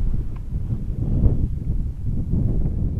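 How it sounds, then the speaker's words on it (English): Steady low wind buffets the microphone throughout, a constant rumbling roar with no other clear sounds, in a creek bottom on a very windy day. "Really windy that day."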